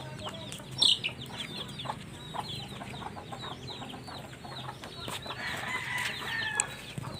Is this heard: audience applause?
no